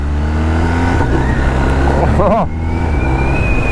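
A BMW R1250R motorcycle engine revs steadily, then drops pitch through a quick quickshifter gear change and pulls on at a higher note, loud and close, with a brief spoken exclamation.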